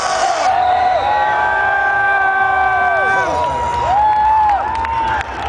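A crowd at a concert cheering and roaring loudly in a big arena, with long sustained whoops and shouts rising and falling over a dense wall of crowd noise.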